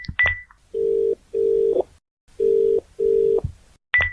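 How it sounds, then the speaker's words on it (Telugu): A phone dials a call, giving a few short beeps followed by two pairs of long, steady ringback tones separated by brief silences. "ఏంటి నాన్న ఫోన్ లిఫ్ట్ చేయట్లేదు?"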